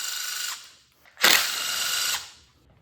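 A ratchet works on the valve cover bolts of a 2013 Ford Taurus SHO engine during a teardown, giving two bursts of close, buzzing mechanical clicking separated by a brief pause, with no talking.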